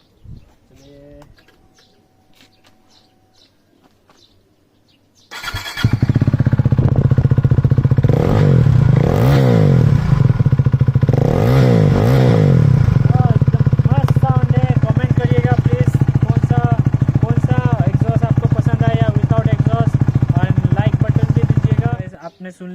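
A KTM RC 390 with a free-flow exhaust and the dB killer removed fires up after a quiet start with some talk, then revs hard in sharp rising bursts and keeps a loud, raspy, close roar for about fifteen seconds before cutting off.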